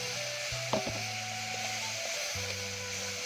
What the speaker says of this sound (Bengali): এই কাঁচা লঙ্কা দুটো একটু ভেজে নেব।